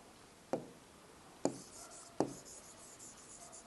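Chalk or marker writing on a classroom board, three sharp separate taps and strokes spaced about a second apart, close and faint against a quiet room.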